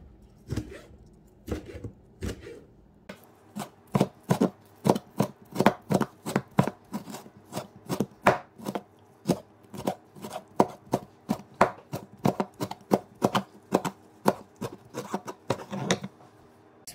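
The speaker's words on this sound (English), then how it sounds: "now we can start cutting our beef tripe. We're going to try to cut it in little strips, like thin strips" A knife slicing beef tripe into thin strips on a board, steady rhythmic close chops repeating for a long run after a few sparse cuts, no talking.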